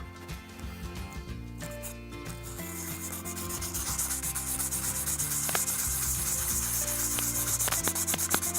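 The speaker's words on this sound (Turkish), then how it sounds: "Sonra zımparamı biraz suya batırıp" Continuous rubbing and scraping of wet sandpaper against a die-cast model car body, steady and close, growing slightly louder and hissier partway through, with no talking.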